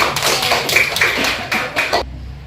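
A class of sixth-grade pupils at an Islamic primary school claps together in quick, loud, rhythmic bursts close by, then stops abruptly, leaving near silence.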